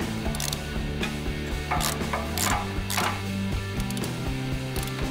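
Car parts are bolted back onto a Suzuki Swift during a clutch replacement, with steady metallic ratcheting and clicking from hand tools over a constant droning background hum and no talk.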